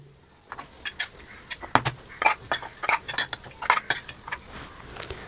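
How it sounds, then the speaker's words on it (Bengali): Lentils poured into a metal pot, a quick run of bright metallic clinks and rattles of grains striking the pot, close and fairly loud, with no one talking. "এবার আমি ডাল ভরে নেব।"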